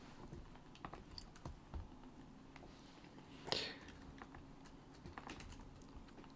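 Typing on a computer keyboard while coding in C++, a steady patter of light, quiet key clicks with one sharper, louder keystroke near the middle, no talking.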